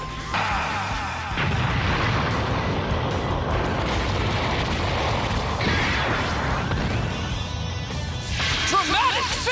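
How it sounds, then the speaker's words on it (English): Missile fire and explosive game effects from an enemy Borg in the GameCube game Gotcha Force, a dense, loud barrage of booms and mechanical clatter running the whole time, with speech-like sound mixed in. "How he shoots missiles and stuff like that."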